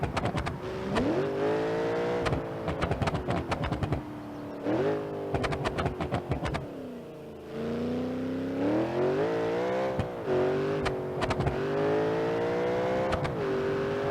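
A Rotsun 200bx with a swapped-in V8 engine, in the BeamNG.drive driving game, revs and pulls through gears, a loud continuous engine drone rising and falling in pitch, with a brief dip before climbing again.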